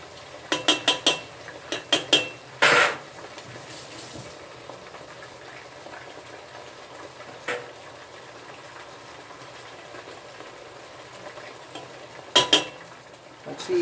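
A utensil clinks and scrapes against a pan while healthy food is flipped, a quick series of sharp metallic taps and a louder clatter over a low steady sizzle, with more clanks near the end.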